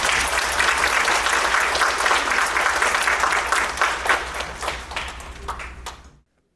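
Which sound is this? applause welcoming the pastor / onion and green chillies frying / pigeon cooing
applause welcoming the pastor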